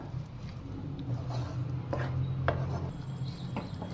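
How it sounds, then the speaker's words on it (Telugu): A coconut laddu mixture of fried grated coconut is stirred in a pan with the stove off, giving soft scraping and occasional light knocks of a spoon against the pan over a low steady hum. "మొత్తం కలుపుకుందాము మంచిగా."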